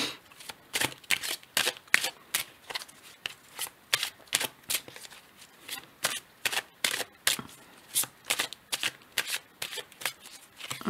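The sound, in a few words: shuffling oracle cards before drawing one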